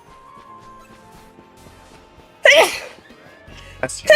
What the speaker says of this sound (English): How dare you sneeze on stream?